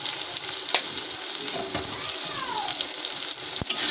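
Turmeric, chili powder, slit green chilies and salt sizzle and fry in hot oil for a river puti fish curry, a steady close crackle broken by a few sharp scrapes of stirring.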